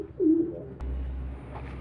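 Pigeon giving a single low, soft coo while being held for an injection, close and brief, followed by quiet handling noise.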